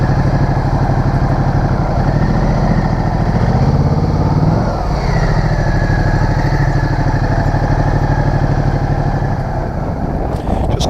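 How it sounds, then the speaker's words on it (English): A 2015 Ducati Multistrada DVT, rated 160 horsepower, accelerates onto a motorway; its loud, steady engine drone and gear-driven pitch rise dominate throughout, with wind roar underneath. "Just going onto the motorway now, and with having that full 160 horsepower on tap, the bike picks up really quickly"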